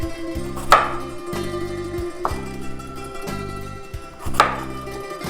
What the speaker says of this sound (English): Then we quarter the potatoes.